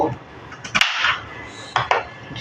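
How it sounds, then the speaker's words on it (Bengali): A knife chops washed onions for home cooking, giving a few sharp, irregular knocks against a background of soft kitchen noise. "ধুয়ে কেটে রাখা পেঁয়াজগুলোকে এখন কুচিয়ে নেব"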